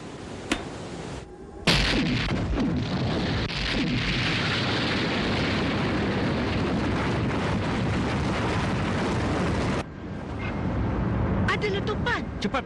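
A bomb planted on a jeep in a dubbed Ultraman Gaia episode detonates with a sudden loud blast, followed by a long, dense roar of rumbling debris and crackling that continues for several seconds before cutting off.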